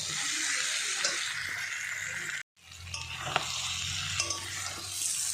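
Fried potatoes stirred into a pan of simmering country chicken curry, a steady broadband sizzle with scraping stirs and a few clinks, briefly cut off partway before the frying resumes.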